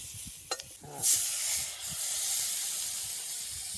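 Onion hits hot oil in an iron kadhai, a sudden loud sizzling spray that settles into a steady frying hiss, with a few soft clinks just before.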